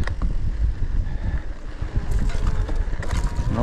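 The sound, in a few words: strong wind blowing on the microphone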